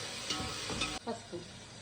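Garlic paste dropped into a pan of sizzling garam masala spices for Nellore mutton biryani, a steady close frying hiss that breaks off abruptly partway through, followed by a few softer crackles and stirring sounds.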